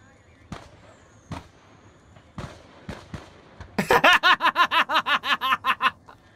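Scattered sharp bangs and pops, then a rapid series of Roman candle bursts going off in a steady rhythm, while someone laughs over them.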